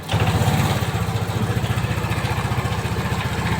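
A Griffin 180i motorcycle engine, checked for overheating and oil pressure, idles close up with a loud, steady, rapid chugging pulse throughout.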